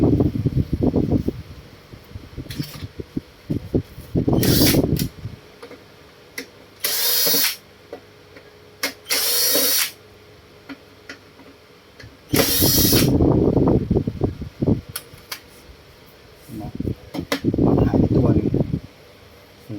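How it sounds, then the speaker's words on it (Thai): Screws being loosened on an electric fan's cover, giving short bursts of ratcheting, whirring screwdriver noise separated by pauses, with someone talking throughout. "คลายน็อตฝาปิดออกนะครับ"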